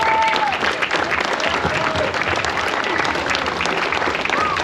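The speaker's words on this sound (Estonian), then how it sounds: "Aplausi katke." Applause breaks out at the podium of a drift competition, a dense crowd clapping steadily throughout with voices and cheers mixed in.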